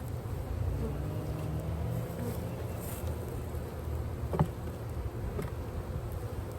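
Honey bees from a newly hived swarm buzzing around the hive, a dense steady hum of many insects close by, with a brief knock partway through.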